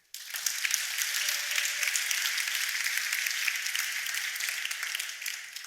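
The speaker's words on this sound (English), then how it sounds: "So I think that deserves an applause too." Audience applause at a women-in-tech conference, a dense, even wash of clapping from a large crowd, sustained at steady volume for several seconds before tapering slightly at the end.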